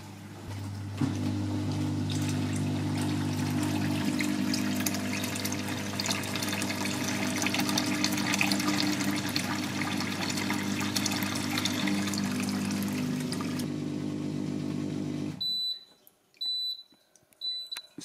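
Lidl Silvercrest mini dishwasher running an express cycle with water in the tub, a steady low hum and pumping churn that holds for most of the clip before cutting off abruptly, followed by a few faint beeps.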